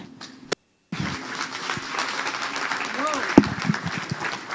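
Audience applause at a manufacturing-sector ESG client workshop, a steady moderate patter of clapping that begins after a brief silence and runs continuously, with a voice speaking over it.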